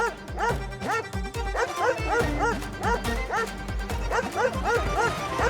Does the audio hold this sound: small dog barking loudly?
yes